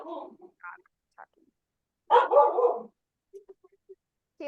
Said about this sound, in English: Cue the dog.